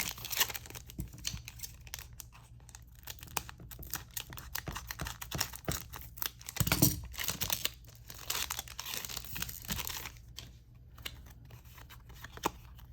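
Pokémon Lost Abyss booster pack wrappers being cut and opened, quiet close crinkling, snipping and tearing of foil, with soft handling clicks and one louder rustle in the middle.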